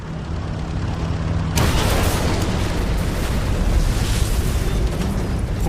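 A huge mid-air explosion tears through a formation of fighter aircraft, a sudden loud blast that opens into a long, dense roaring rumble.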